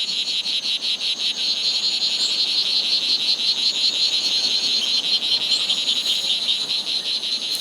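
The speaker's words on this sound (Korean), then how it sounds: "수컷은 암컷의 관심을 끌기 위해 울음주머니를 크게 부풀린다." Male strawberry poison dart frog calling with its vocal sac inflated, a rapid buzzing trill of clicks repeated in steady bursts, loud and close against a faint natural background.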